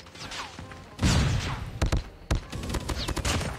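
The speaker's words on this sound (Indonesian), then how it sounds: "Wah, pistol juga oke." Gunfire in a shooting video game rings out as several sharp shots in uneven bursts, some close together, over a quiet in-game background.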